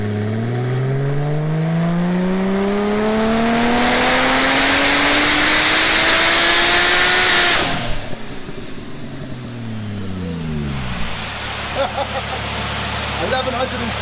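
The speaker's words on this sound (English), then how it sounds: "So remember when we had it on the dyno last time, it made like 11:30 something." A 1300bhp Porsche 911 Turbo S on a dyno, its engine revving loudly and rising steadily in pitch for several seconds before cutting off abruptly, followed by lower rumbling and a fading whine.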